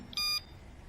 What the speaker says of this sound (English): See, you heard 3 beeps, right? It means it's switched to fast mode.